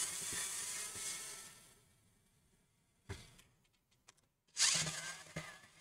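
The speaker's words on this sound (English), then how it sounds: "I'll be using the electric screwdriver here." An electric screwdriver whirs in short bursts while removing screws from the back cover of a Lenovo IdeaPad 3 15ITL05 laptop, quiet and close with a few ratcheting clicks between runs.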